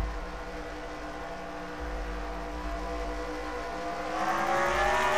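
NASCAR trucks at Kansas Speedway as the pace truck leaves the track, a steady engine drone that swells louder and rises in pitch toward the end as the field accelerates.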